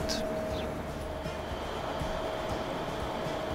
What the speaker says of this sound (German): Bisschen, bisschen Zugverkehr am Hauptbahnhof am frühen Morgen hier. Einfahrende Züge, ausfahrende Züge.